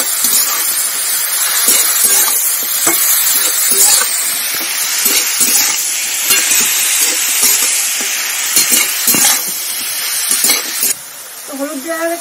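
Prawns and radish with turmeric and salt sizzle loudly in a hot pan as they are stirred, a close, steady frying hiss punctuated by repeated scraping strokes.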